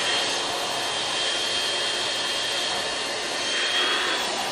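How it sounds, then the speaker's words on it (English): An Omega Axtrix vacuum cleaner runs along the seams of a bed mattress, a steady close whooshing motor roar that holds even throughout with no speech. "You also want to vacuum along the seams of the mattress"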